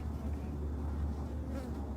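Bees buzzing in a steady, close, continuous drone with a low hum and no talking over it.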